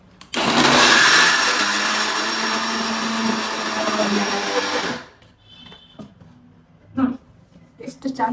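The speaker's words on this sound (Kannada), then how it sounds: "ಇವಾಗ ಮಿಕ್ಸಿಗೆ ಹಾಕುವ." A kitchen mixer grinder dry-grinds ingredients without water for a Mangalore turmeric sweet kadubu, a loud continuous whirring roar for about five seconds that cuts off abruptly, followed by quiet handling clatter and soft knocks.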